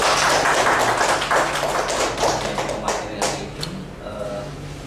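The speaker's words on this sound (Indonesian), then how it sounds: "kita berikan aplaus untuk Pak Mursyid." An audience at an indoor discussion session gives dense, steady applause, clapping loudly for several seconds before thinning to a few scattered claps.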